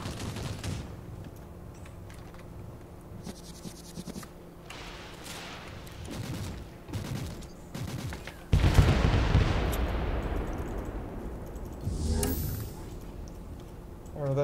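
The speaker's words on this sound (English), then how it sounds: "Oh, now he's shooting." Enemy gunfire in a first-person video game: repeated sharp shots and bursts, then a loud booming blast that rolls into a sustained roar of fire, with another heavy impact near the end.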